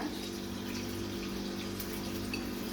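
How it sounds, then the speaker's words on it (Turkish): Water from boiled pasta drains away in a faint, steady pour and trickle, quiet and unbroken for a few seconds. "Haşladığımız makarnaların suyunu süzdük."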